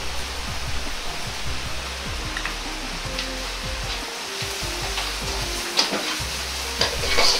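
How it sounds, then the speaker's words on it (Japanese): Doubanjiang chili bean paste stir-fried in oil with garlic and ginger over low heat, giving a steady close sizzle and hiss with soft scraping stir strokes throughout, no talking. "豆板醤はしっかりと炒めないと生臭い香りが残るので、ちゃんと炒めましょう。"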